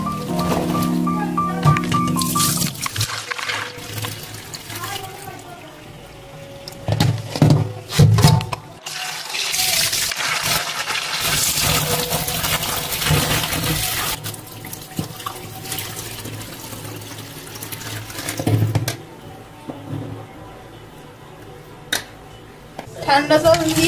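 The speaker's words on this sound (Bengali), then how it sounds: "ঠান্ডা জল দিয়ে ধুয়ে নিচ্ছি" Live crabs are rinsed under a cold running tap in a sink, water splashing and gurgling steadily with louder gushes and clatter of shells, a voice speaking at times in between.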